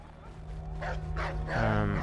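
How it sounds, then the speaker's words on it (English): A dog in Assassin's Creed 3 Remastered gives a few sharp, close barks and yips over steady game background noise, with a voice talking underneath. "The dog scared me"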